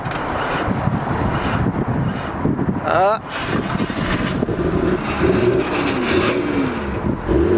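Nissan R32 GTR with an RB26 engine and one blown turbo cranks and runs with a loud, rough, close-up rumble, while people talk over it throughout.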